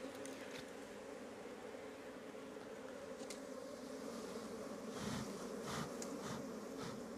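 Chinese honeybees buzz steadily around hive boxes as frames are added in an apiary, a dense continuous hum with a few brief closer passes and light handling noises.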